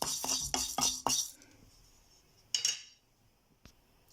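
Urad dal lentils being dry roasted in a pan and stirred with a spoon, with a run of quick metallic scrapes and clinks up front, then a pause and a few more scrapes alone.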